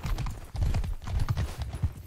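A horse gallops in a video game, with rapid, rhythmic hoof clip-clops running close and steady throughout.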